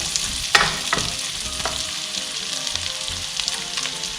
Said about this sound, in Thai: เราจะผัดแบบแห้งๆค่ะ